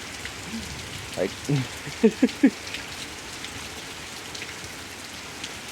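Steady rain falls on a stormy night in Pittsburg, Kansas, a constant close hiss of drops beneath a few brief spoken words.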